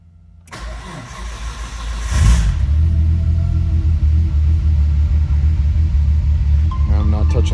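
A 1994 Nissan Skyline is started from cold: a few quiet seconds, then a brief crank as the engine catches and settles into a loud, steady, rumbling idle close by.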